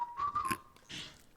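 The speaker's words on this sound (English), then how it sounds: "How'd you whistle?" A person whistles a brief high steady tone lasting under a second, followed by a soft crunching sound.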